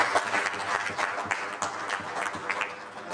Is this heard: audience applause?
yes